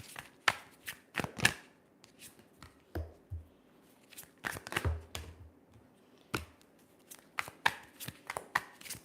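A deck of tarot cards is shuffled in short, crisp bursts of riffling and slapping, separated by quiet gaps, close by and with no talking.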